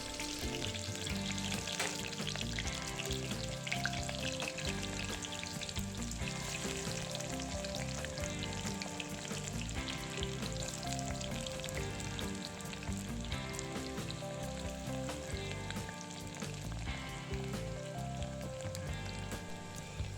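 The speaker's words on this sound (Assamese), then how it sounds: "এতিয়া মই আলু ভজা তেলখিনিতে পিঁয়াজখিনি ভাজি ল'ম" Onions frying in oil left over from frying potatoes for a mutton curry give a steady, dense, close sizzle that crackles evenly throughout, with no voices.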